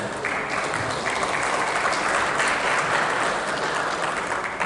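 An audience at a business congress claps steadily throughout, a dense, even wash of applause with no voices heard.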